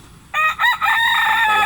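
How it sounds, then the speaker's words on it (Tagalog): A pet rooster crows loudly right outside a kitchen, one long cock-a-doodle-doo call with a brief break partway through, close and clear with no talk. "pasensya na po kayo dito sa alaga kong manok, tilaok ng tilaok dito sa harapan ng aking kusina"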